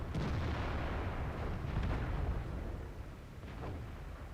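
A tank gun fires in the World of Tanks video game, giving a heavy booming blast and long rumbling roar that fills the clip, with a second sharper report near the end, loud and dense.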